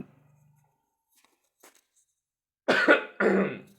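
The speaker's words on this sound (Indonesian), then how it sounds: "maaf ya, batuk-batuk nih" Two loud, close coughs in quick succession after a near-silent stretch with faint low hum and a small rustle.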